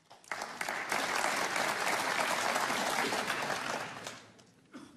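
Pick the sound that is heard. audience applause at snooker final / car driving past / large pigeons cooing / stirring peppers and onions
audience applause at snooker final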